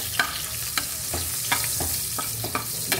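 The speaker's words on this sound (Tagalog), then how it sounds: "Lagay natin yung luya." Ginger frying in a pan gives a steady close sizzle, broken by a series of short sharp clicks and scrapes from stirring, with no voices.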